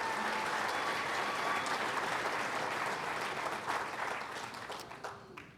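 An audience at a Baseball Hall of Fame roundtable event claps in a dense, sustained round of applause that fills the room, then gradually tapers off toward the end.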